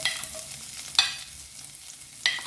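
Okra sautés in hot oil for adobong okra, with a soft steady sizzle broken by two sharp scraping stirs of a utensil against the pan, one around a second in and another near the end.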